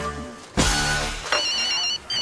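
Telephone ringing in a French-language comedy series set at a workplace answering solicitation calls, a loud electronic ring with steady tonal bursts starting abruptly after a quiet moment and repeating twice.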